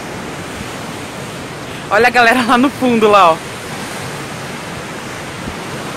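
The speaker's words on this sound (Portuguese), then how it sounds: "porque o mar tá batendo muito aqui perto" Sea surf breaking against the shore near Itapuã at night gives a steady rushing roar throughout, with someone speaking briefly over it.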